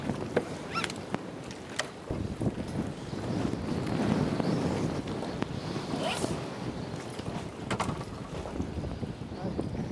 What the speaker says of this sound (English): the wind is definitely blowing on Lake Texoma